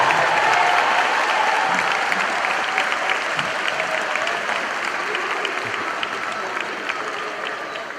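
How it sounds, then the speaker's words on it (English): A graduation ceremony audience for the class of 2026 applauds steadily, a dense, loud wash of clapping with crowd noise that holds for about eight seconds and fades slightly toward the end. "Can we give them a round of applause?"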